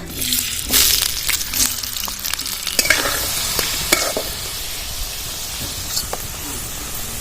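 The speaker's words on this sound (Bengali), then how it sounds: "তেলটা গরম হয়ে গেছে আলুগুলো এবার ভেজে নেবো" Potatoes fry in hot oil in a wok, a loud continuous sizzle close by, broken by repeated scraping and clattering strokes of a spatula as they are stirred.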